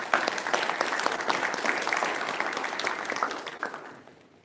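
An audience at a university panel event claps for a panelist, a brisk crowd round of applause that holds steady and then tapers off toward the end.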